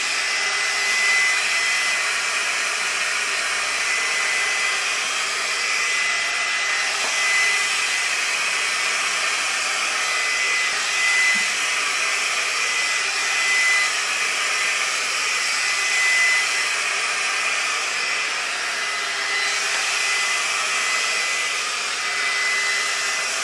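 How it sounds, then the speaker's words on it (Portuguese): A GHD Duet Style 2-in-1 hair dryer blows continuously while drying hair, giving a loud, steady, unbroken rushing whine that lasts throughout with no talking. "mas já está a secar o cabelo"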